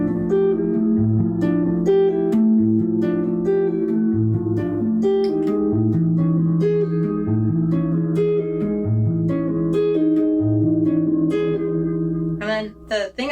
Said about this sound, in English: But the riff all together, incorporating the hammer-ons, the tapping, and like the hammer-ons, it sounds like this.